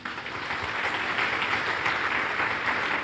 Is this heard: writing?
no